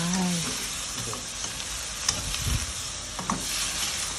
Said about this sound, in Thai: แล้วก็ผัดผัดผัดไป